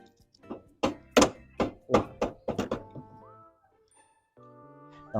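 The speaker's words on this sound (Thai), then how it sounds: "ผม ก็จะใช้ค้อนยางกระเทาะไป" A rubber mallet strikes metal while replacing the stand pivot shaft on a Honda Wave125 LED motorcycle: about nine dull, resonant thumps in a fairly steady rhythm, close by, followed by a quieter humming tone.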